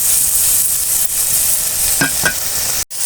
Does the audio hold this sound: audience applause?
no